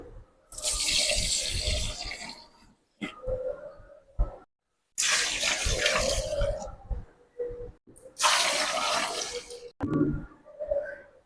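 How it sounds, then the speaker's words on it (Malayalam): Water is poured from a tap or jug onto grapes and sugar for Christmas grape wine, in three long rushing bursts with brief gaps of splashing and handling between them. "അപ്പോൾ നമുക്ക് വെള്ളം ഒഴിച്ചു കൊടുക്കാം"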